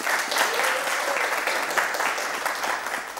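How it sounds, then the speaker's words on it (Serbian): Studio audience applauding for Belma at the end of a televised debate on education, sustained clapping with scattered louder claps, fairly close. "jedan aplauz za Belmu."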